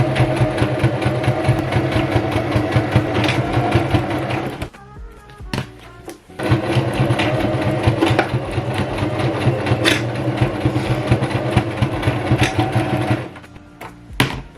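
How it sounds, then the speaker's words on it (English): A sewing machine runs in long steady bursts, stitching straight down both sides of a quilted makeup bag, with a short pause in the middle and a stop near the end. "But right now, sewing down just straight down both sides."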